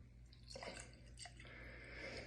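Old Elk Wheated bourbon poured into a glass, a short soft trickle with faint splashes over a low steady hum, quiet and brief.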